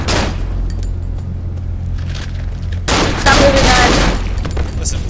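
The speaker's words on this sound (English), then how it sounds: "I think it might shoot itself after a while." Pistol gunshots from the horror video game Cry of Fear, a burst of loud shots and booms over a low droning background, strongest in the second half.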